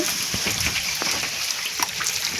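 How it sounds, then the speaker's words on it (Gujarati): Rain falls steadily in a Gujarati village, a continuous patter with scattered nearby drips and taps and no voices. "હવે પહેલાનો વરસાદ ચાલુ છે, જોઈ લો તમે."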